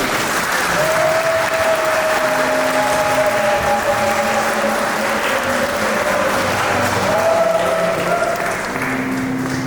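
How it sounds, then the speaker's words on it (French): Wedding guests at a town hall and church ceremony break into steady applause, a dense continuous clatter of many hands close by, with a sustained held vocal tone running through it and no clear talking. "On peut les applaudir, hein?"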